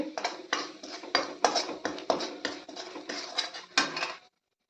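A spoon stirs carrot, amla and green chili pickle with spices in a metal bowl, making a rapid run of close clinks and scrapes that stops abruptly.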